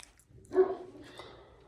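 A dog at a remote rural home gives a single short bark or yip, fairly close but soft, followed by faint whimpering noises in a quiet setting.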